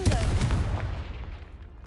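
In the Hogwarts Mystery video game, the Confringo blasting spell sets off a loud, booming explosion that hits at once and then rumbles away over about two seconds.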